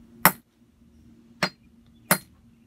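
A hammer strikes a hard chunk of obsidian three times, each a sharp, bright crack-clink at close range, spaced about a second apart with quiet between.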